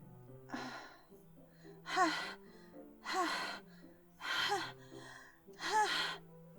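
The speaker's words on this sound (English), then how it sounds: "A sharp inhale, like someone sucking the air through their teeth." Five sharp, breathy inhales through the teeth in a video game, at roughly one-second intervals, close and fairly loud, over a faint low hum, with no talking.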